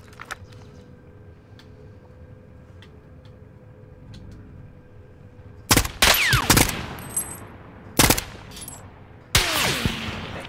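Gunfire in Call of Duty Warzone played on an Xbox Series S, with loud sharp bursts of shots in a few quick volleys after a quiet stretch of low background game ambience.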